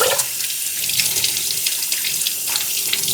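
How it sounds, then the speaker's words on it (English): Water runs steadily from a kitchen faucet as onions are rinsed under it, a continuous close hiss of splashing water that fills the whole stretch without any talk. "Now I want to rinse these onions."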